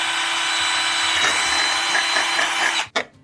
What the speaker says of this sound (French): pour faire un trou de 6 dans du plastique, eh bien, le meilleur truc, c'est une mèche à bois de 6